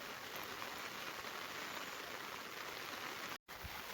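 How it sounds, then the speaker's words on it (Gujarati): Soft, steady winter rain patters across an open farm field, faint and continuous, with a brief dropout near the end. "તમે જોઈ શકો છો કેટલો બધો વરસાદ પડે છે"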